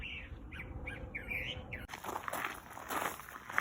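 A bird sings a series of rising, warbling phrases nearby, then the song gives way to louder rustling and crunching footsteps on gravel.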